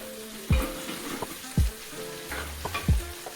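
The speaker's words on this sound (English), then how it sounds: "So just waiting for our butter to melt." Butter melts and sizzles in a pan as a soft, steady crackle, broken by three or four sharp, loud knocks and scrapes of a utensil against the cookware, with no one speaking.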